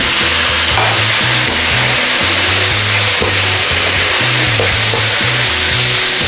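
Pork and ampalaya (bitter gourd) stir-frying together in a pan, giving a steady, loud sizzle throughout, with low rhythmic background music underneath.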